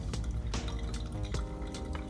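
Freshly brewed coffee trickling and dripping from an Origami dripper after the second pour, a close, steady liquid patter with small gurgling drops throughout.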